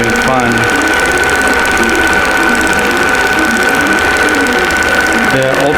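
A sewing machine stitches Ultra Suede fabric for Christmas stockings in a steady, loud mechanical whir that runs throughout, with a voice talking over it.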